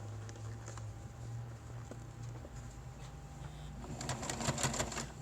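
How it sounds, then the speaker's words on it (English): A sewing machine stitches along the seam of a fabric face mask, its steady low motor hum and rapid needle patter running continuously, growing busier and louder near the end, with no voices. "you're going to stitch right along this line to catch that back piece"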